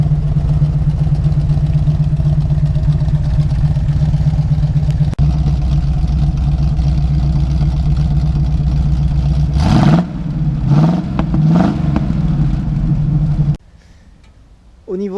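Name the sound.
Pontiac Firebird Formula 400 Big Block engine idling and revving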